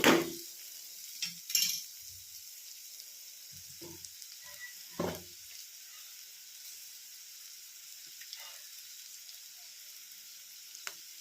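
Vegetable palya frying in a pan, a quiet, steady sizzle with occasional brief stirring scrapes and clinks, loudest in the opening seconds and sparse afterward.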